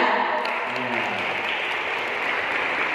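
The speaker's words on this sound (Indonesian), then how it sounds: "Kita selesai, tepuk tangan ya." Audience applause at an Indonesian national seminar, a steady dense wash of clapping filling the whole span, loud and close, with a brief voice trailing under it at the start.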